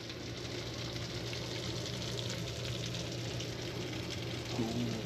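Lobster mac and cheese sizzles faintly in the oven, steady with a soft crackle and hiss, continuous and even throughout, with a low hum underneath.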